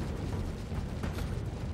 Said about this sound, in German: Oh, da war die erste kleine Explosion vorne.